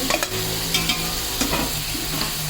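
Chopped tomatoes being stirred into chicken frying in a pot for chicken pulao, with a steady sizzle under repeated scraping strokes of a spoon, close and moderately loud, no voices.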